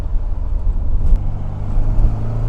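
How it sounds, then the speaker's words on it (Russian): A 1960s Alfa Romeo 1750 GTV engine rumbles loudly up close, a deep steady throb with slight surges in revs. "Вы послушайте этот мотор."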